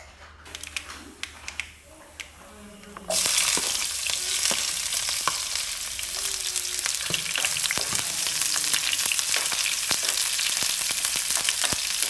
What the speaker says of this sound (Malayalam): വെളിച്ചെണ്ണ നന്നായി ചൂടായപ്പോൾ കടുകിട്ടു